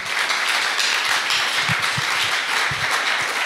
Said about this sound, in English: we'll give them a round of applause anyway